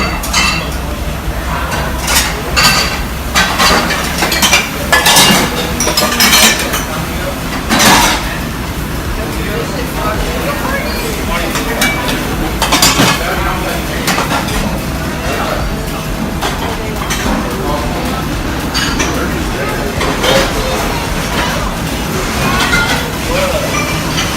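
Dishes, cutlery and pots clink and clatter repeatedly in a busy cruise ship kitchen wash area, with steady machinery rumble underneath and people talking nearby.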